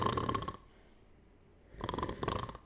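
A voice imitating snoring in a tavern with the sound coming through the walls: two raspy, rhythmic breaths, one at the start and a louder, longer one after a quiet pause, with no other talk.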